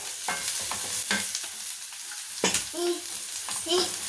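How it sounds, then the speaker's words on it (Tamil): Pepper paneer with coriander leaves being sautéed in a pan, a low continuous sizzle broken by irregular scraping and clinking stirs of the spatula at close range. "நல்லா சிம் பண்ணி நல்லா வதக்கி விட்டுட்டு"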